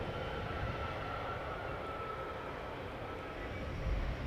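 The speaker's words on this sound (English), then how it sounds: "Finnair A350 just left" A Finnair A350 departs Schiphol Airport as a faint, distant, steady roar that rises slightly near the end.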